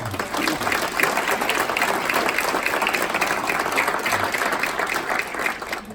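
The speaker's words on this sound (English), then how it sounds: "So you all deserve a round of applause." An audience at a community partner award event applauds in a steady, sustained burst of many hands clapping that lasts the whole stretch, with no pauses.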